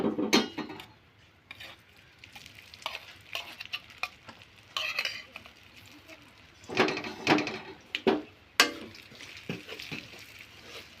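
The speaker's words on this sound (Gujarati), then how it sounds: "ઘી નાખી અને હલાવવાનું" Gram flour roasting in ghee is stirred in a pan for magaj laddu: close, repeated scraping strokes over a soft sizzle, irregular and busy, with no voices.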